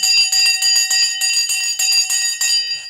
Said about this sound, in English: And the bell has now gone.